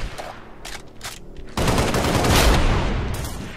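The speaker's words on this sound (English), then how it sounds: "I'm used to shooting everything." Gunfire in the video game Halo Reach during a modded Prop Hunt match: a few brief, sparse pops, then a dense, loud burst of sustained rapid firing that continues to the end.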